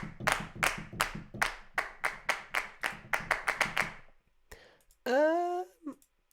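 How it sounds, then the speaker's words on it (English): Sampled hand claps from a free percussion library, roughly a dozen dry, close claps in a loose uneven rhythm, followed after a short gap by a brief tonal sound. "2 hand claps, 4 hand claps"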